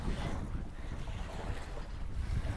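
Steady wind gusts buffet the microphone at a waterfront boat launch beside a swaying deck, a continuous low rumble with faint wave wash beneath and no voices.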